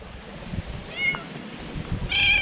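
A small cat at a lakeside overland camp in Turkey meows twice, a short cry and then a louder, longer one, close by over quiet outdoor background noise.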